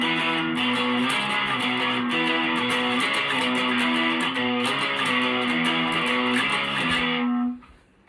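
An electric guitar strums a song in power chords, driving rhythmic chord changes played loud and steady before ringing out and cutting off at the end.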